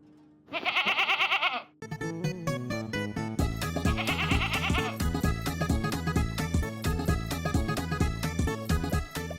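A goat bleats in two drawn-out wavering calls, one near the start and another a few seconds later, heard over continuous loud music.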